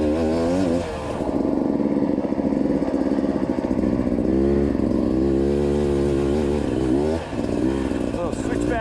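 A dirt bike engine, either a Honda CRF450X or a 300 two-stroke, drones and revs loudly on an Idaho single track trail, pitch sweeping up and down as it shifts gears, with a rider talking over it.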